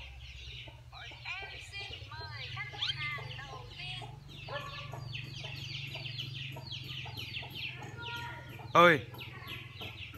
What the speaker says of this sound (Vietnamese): mình sẽ đi xem mấy con gà